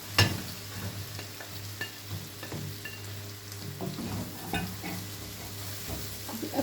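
Okra (bhindi) frying in a pan with a soft, steady sizzle and a few light stirring taps, close by and fairly quiet, with no talking.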